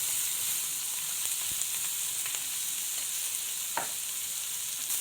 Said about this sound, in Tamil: வெங்காயம் நல்லா வதங்கி கொண்டு வந்துட்டுது.